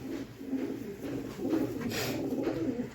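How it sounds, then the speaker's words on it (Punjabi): A pair of pigeons coo softly and repeatedly at close range, low rolling calls continuing through the whole stretch, over a faint background hiss. "ਆ ਕਬੂਤਰ ਹੈਗਾ ਤੇ ਆ ਕਬੂਤਰੀ ਹੈ"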